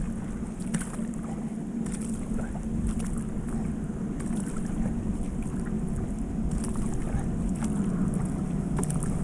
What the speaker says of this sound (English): I'm using my paddle to steer.